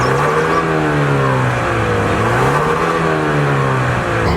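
A Genesis GV80 2.5-liter turbocharged four-cylinder revs loudly in sport mode, its pitch climbing, dipping and climbing again in steady, close, continuous engine drone with no talking.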